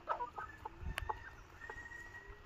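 Four-month-old Silkie chickens on a small poultry farm in Assam give soft, faint clucks and short chirps over a quiet background.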